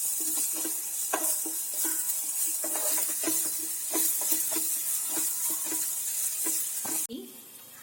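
Ground spice powder and pepper powder sautéing in a pan for a prawn roast, a steady hiss with repeated clicks and scrapes of a spoon stirring, close and fairly loud, ending abruptly near the finish.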